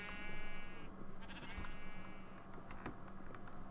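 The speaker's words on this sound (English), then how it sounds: "The sheep are escaping." Sheep in the Minecraft video game bleat repeatedly in wavering, harmonic calls that overlap one another, loud and close over a faint background.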